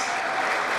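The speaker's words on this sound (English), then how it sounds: "A round of applause for EDU Lawn Care," An audience applauds a small business presenter at a community meeting, producing a steady, dense wash of clapping heard up close in a brief burst.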